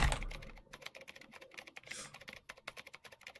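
Rapid clicking of computer keyboard keys, a dense run of close, crisp taps with brief pauses, steady and moderately loud with no talking over it.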